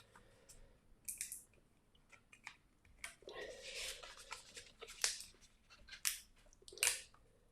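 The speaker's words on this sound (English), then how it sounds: "I just want that middle piece, that middle section to come away from with the transfer tape." Transfer tape being slowly peeled off thick-backed Cricut smart vinyl, with quiet bursts of crackling, sticky rasps at irregular intervals, close up with no talking.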